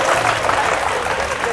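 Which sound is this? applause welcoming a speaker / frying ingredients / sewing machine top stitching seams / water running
applause welcoming a speaker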